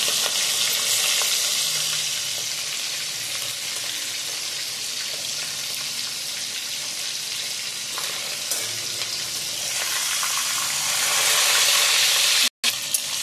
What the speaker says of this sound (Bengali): নুন হলুদ মাখিয়ে রেখেছিলাম ইলিশ মাছের মাথাটা, তেলে দিয়ে দিলাম।